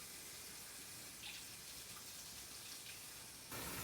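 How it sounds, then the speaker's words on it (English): Hot tap water running steadily into a sink to rinse out a shot glass, a constant broadband hiss that rises in strength near the end, with no talking. "I'm going to just kind of rinse it out with the hot water"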